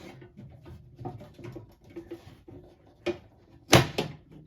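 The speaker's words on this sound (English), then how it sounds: "let's close this door" Metal door of a Westinghouse OV-25 Silverliner mercury vapor street light fixture swung shut, faint handling clatter and rustling followed by a sharp latching clack and a second knock near the end.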